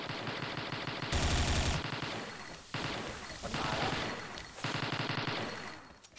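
Gunfire in the online shooter XSHOT, several sustained loud bursts of rapid shots with brief breaks between them, no voices over the shooting.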